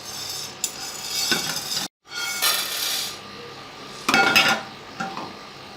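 Whole spices such as black pepper, star anise, cloves and black cardamom are dry-roasted in a pan over low heat, producing soft rattling, scraping and clinking as they are stirred, close up with brief pauses and no talk.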